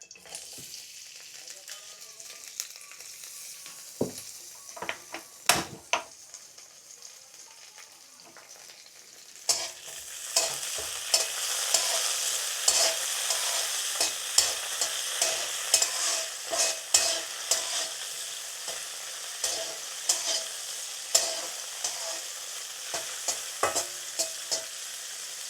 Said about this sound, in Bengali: আমি এখানে কাজু বাদাম এবং কিশমিশগুলো ভেজে নেব।